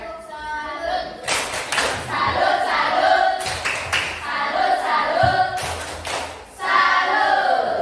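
Applause from a classroom for presenting student groups, several bursts of clapping from many hands, fairly close and loud, separated by short stretches of voices talking.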